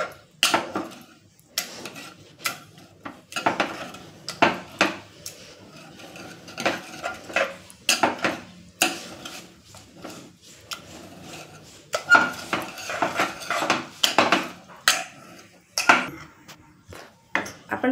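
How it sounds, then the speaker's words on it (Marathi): Mustard greens being mashed with maize flour in a pot, rapid repeated knocks and scrapes of a utensil against the pot in uneven bursts, fairly close. "थोडं करून स्मॅश करून घ्यायचं"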